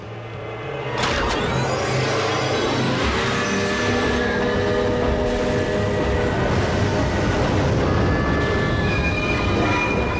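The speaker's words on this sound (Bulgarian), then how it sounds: "Доста голям влак." A large train rolls past nearby, a steady loud rumble with clanking wagons and squealing wheels and a few high metallic tones, constant throughout without any talk.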